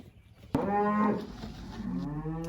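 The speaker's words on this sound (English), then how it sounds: "we have to separate the cows from the calves" Cattle on a farm, one cow letting out a long, loud moo close by, with a second, fainter moo starting toward the end. No one speaks.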